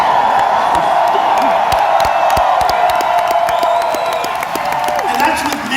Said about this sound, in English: there's a record crowd